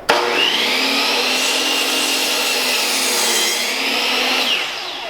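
A saw cuts steadily through wood for several seconds, a continuous rasping grind with a slight rise and fall in pitch, close and loud, no talking.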